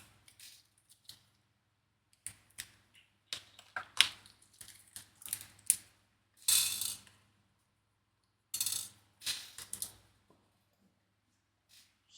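Screws are fastened into the leg and thigh of a 1:2 scale Alien figure, making faint, scattered clicks and short scraping ticks in irregular bursts, with quiet pauses between them.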